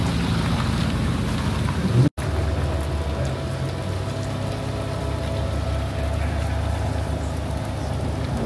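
Steady heavy rain hisses through a thunderstorm at a supercar outing with Alpine cars, a dense constant wash broken by one brief dropout and no distinct thunderclap.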